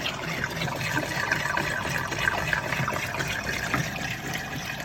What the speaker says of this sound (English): I'm just draining all the fluid out the box.